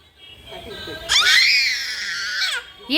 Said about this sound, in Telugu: ఇది కావాలట గట్టిగా అరుస్తుంది చూడండి